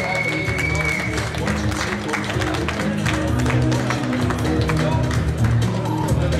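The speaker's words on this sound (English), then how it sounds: "Applause for Switzerland." Audience applause and crowd noise for Switzerland at a WABBA world championship bodybuilding show in Hungary, steady and dense throughout with music and voices mixed underneath.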